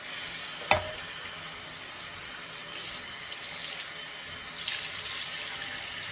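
A laser engraved tumbler is rinsed under a running tap, a steady close hiss of flowing water with a single sharp knock near the start and faint splashes.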